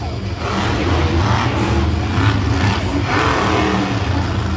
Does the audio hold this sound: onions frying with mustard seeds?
no